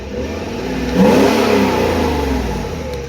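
A 1993 Mercedes 500E barn-find engine revs up as the car pulls away, a steady mid-pitched engine swell that peaks about a second in and then holds as it drives off.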